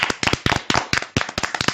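Audience at a children's programme clapping in a loud burst of sharp, uneven hand claps, close and alone with no talking.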